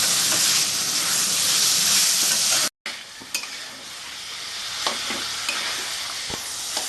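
Mutton liver fries in a pan with a loud, dense sizzle, which cuts out briefly and then returns quieter, broken by scraping stirs and a few sharp clinks of the utensil.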